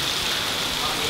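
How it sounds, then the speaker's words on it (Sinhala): Heavy rain falling outside makes a dense, steady hiss that stays even and unbroken from start to finish. "එළියේ හෙනම සැරට වහිනවා"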